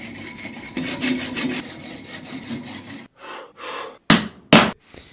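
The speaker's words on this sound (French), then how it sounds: "ça m'a permis de scier le lingot en deux" A saw blade cuts through a metal ingot with rapid rhythmic back-and-forth rasping strokes. The sawing stops near the end, followed by a few separate scraping strokes and two sharp loud clanks close by.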